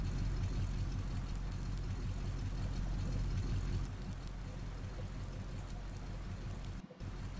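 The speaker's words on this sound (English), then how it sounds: "I know it looks like it's raining hard, but it's not really that hard" Continuous rain falls in the farming video game Farming Simulator 19, a fairly quiet steady hiss with a low rumble underneath that dips briefly near the end.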